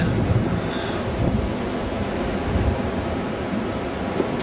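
Strong winter blizzard wind gusting hard against the microphone, a loud, continuous roar with rumbling low buffeting and no pauses.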